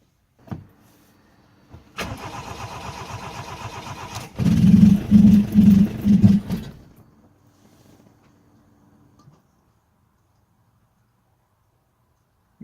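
Flooded car engine cranking repeatedly without catching, with a sustained cranking whir broken by a louder, pulsing burst of rough turnover partway through, then dying away to quiet; no speech.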